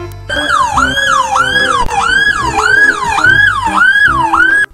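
Toy police escort sedan siren, a loud close electronic wail that sweeps up and down in a steady repeating cycle for several seconds before cutting off abruptly.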